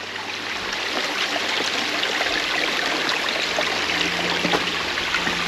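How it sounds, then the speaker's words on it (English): A gently flowing stream on a forest walking track, a steady broadband rush and trickle of water heard close and continuous, with no voices. "Nice stream here. Gentle flowing stream."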